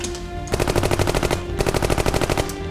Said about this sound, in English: There was a return of fire.